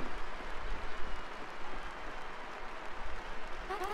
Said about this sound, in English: The crowd is going wild for Gonzalez, our third champion.